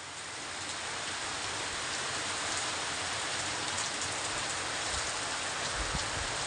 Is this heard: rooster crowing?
no